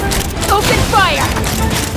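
Cannons fire in the game Genshin Impact, a loud, continuous rumbling barrage of booms under a character's voice.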